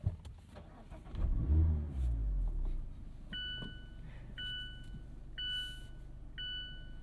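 A 2026 Mazda MX-5 Miata RF with the ND3 engine and 6-speed manual cranks and fires up, its idle flaring high past 2,000 RPM before settling, followed by a series of repeating electronic chimes from the cabin.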